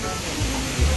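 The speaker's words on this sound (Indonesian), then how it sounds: "Wah, ada air terjun segala." A waterfall rushes at a sightseeing spot near Bandung, a loud, steady roar of falling water with low surges, no clear voices over the broad noise.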